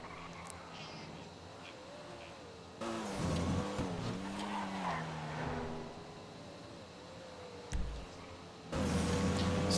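A Comet Retro Custom sports car races in Grand Theft Auto Online. The engine drones steadily with pitch shifts as it changes gear, and tires squeal in louder bursts during hard cornering.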